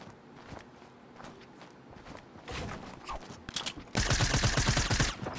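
Gunfire in Fortnite comes as scattered shots and scuffling footsteps, then grows into a loud, dense burst of rapid fire near the end, with no voices.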